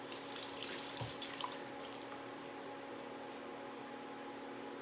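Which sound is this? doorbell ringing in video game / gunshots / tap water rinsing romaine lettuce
tap water rinsing romaine lettuce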